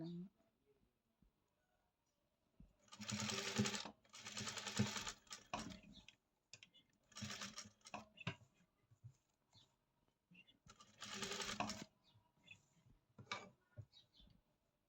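A sewing machine stitches a curved blouse neckline in several loud, close runs of rapid whirring, each a second or two long, separated by pauses in which someone talks.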